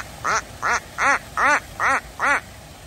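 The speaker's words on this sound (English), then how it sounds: "Are those the Canadian geese?" Six loud, evenly spaced honking calls from Canada geese, close by and outdoors in Düsseldorf, with no talk over them.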